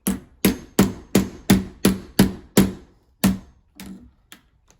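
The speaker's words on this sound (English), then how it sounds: "I'm going to have to kind of tap it in with a hammer" A hammer taps a smart lock part into a door, about ten sharp, evenly spaced strikes close by, each with a quick decay, the last ones slower and softer, with no talking.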